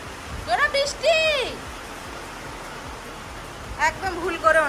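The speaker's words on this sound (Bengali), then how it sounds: "কি জোরে বৃষ্টি হচ্ছে গো" Heavy rain pours down in a steady, loud hiss throughout, while people talk over it at the start and again near the end.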